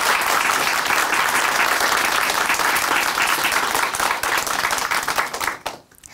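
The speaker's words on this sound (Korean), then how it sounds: "다시 한번 우리 오늘 좋은 간증 들려주신 이명희 자매님께 다시 한번 큰 박수 보내드릴게요." A studio audience at a Christian testimony broadcast applauds a church member's testimony, a dense, steady wash of many hands clapping loudly for about five seconds before quickly thinning out and fading at the end.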